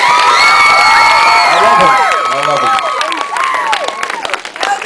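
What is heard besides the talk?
crowd clapping and cheering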